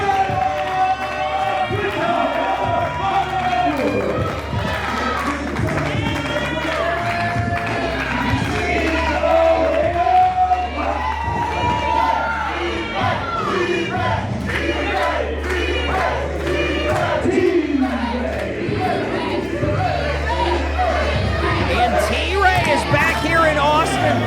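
A Waterloo Wrestling Coalition crowd roars for fan-favorite wrestler T-Ray, with sustained loud cheering, whoops and shouted battle cries running unbroken throughout.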